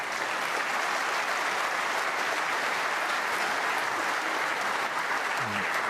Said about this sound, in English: applauding that good shot from her husband